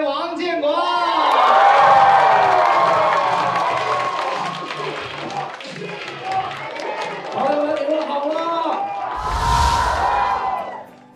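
A studio audience at a Chinese stand-up comedy show claps, whoops and cheers to welcome comedian Wang Jianguo to the stage, a loud, sustained crowd roar that dips midway and swells again near the end.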